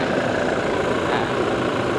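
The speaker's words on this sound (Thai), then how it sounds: "เดี๋ยวสตาร์ทให้ฟังเสียงเครื่องยนต์ด้วย" A 2019 Toyota Revo Smart Cab 2.4 pickup with automatic transmission idles steadily, a close, even diesel rumble that holds constant for the whole moment with no talk over it.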